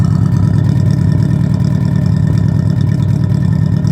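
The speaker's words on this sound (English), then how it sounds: "it misfires at idle and then it runs fine when it's on throttle" A 1992 Honda Accord LX four-cylinder engine idles with a misfire, a loud, steady low rumble with an uneven throb, heard alone with no talking.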